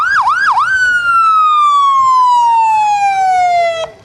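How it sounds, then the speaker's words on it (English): A sheriff's car siren wails at a Sevastopol parade, opening with quick yelping sweeps, then a long loud descending tone close by that cuts off sharply, with no talking. "The siren works well, and the car is kind of quiet"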